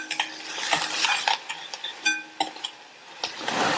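Crushed garlic sautéing in a pan, with repeated sharp scrapes and clinks of a spoon stirring against the metal over a soft, steady sizzle, close and clear.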